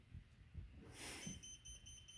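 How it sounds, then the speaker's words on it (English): A small electronic voltage tester, checking household wiring, gives short, high, evenly spaced beeps in a quick repeating pattern, faint against a low background hum. "it beeps on the black wire"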